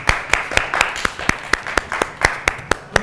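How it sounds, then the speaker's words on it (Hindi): A studio audience on a morning show set claps in a steady run of sharp, distinct claps, about four per second, fairly close and moderately loud, with no speech over it. "तालियां जी।"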